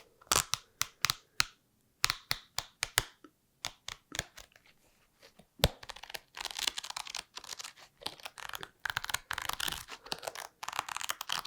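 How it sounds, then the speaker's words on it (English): Close, crisp sounds of paper pages being flipped and handled, first as separate sharp flicks, then a denser rustling run. "But great page turning as well."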